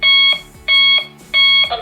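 A talking alarm clock plays a sample alarm: three loud, identical electronic beep tones repeating in an even rhythm, each about a third of a second long and separated by short gaps.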